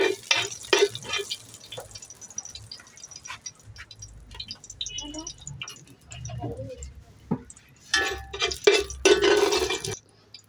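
Cloves and spices fry for a Malabar biryani, giving a close, crackling sizzle with bursts of stirring and clinking against the pan, louder toward the end, while a person talks over it.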